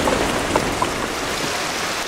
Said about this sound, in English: So, well protected, I waited for the rain to stop and was giving my hand a rest.